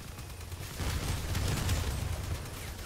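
Muffled, rapid bursts of gunfire from armed vehicles in the online combat game Crossout, with rumbling low booms rolling together at moderate loudness and no speech.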